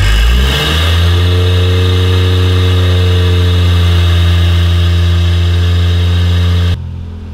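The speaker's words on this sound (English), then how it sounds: "we're trying to rev it up to make sure all the piston rings reseat in the cylinder" A Toyota 1JZ engine swapped into a 240 car is held at a loud, steady rev, close up, with a smooth sustained drone after a brief initial climb, cutting off abruptly near the end.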